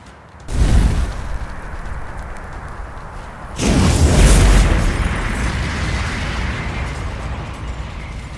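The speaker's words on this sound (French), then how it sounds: "Envoie une boule de feu pour voir." A fireball spell explodes in the Code Lyoko game: a loud rushing burst, then a heavier boom that rolls into a sustained, roaring rumble.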